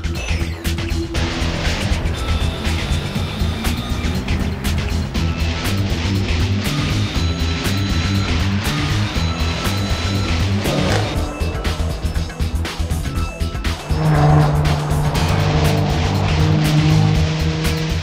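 A Jaguar F-Type V6S driven hard on a racetrack, its engine roaring loud and close for the whole stretch, revving up and down through quick gear changes with a sustained high-pitched howl near the end.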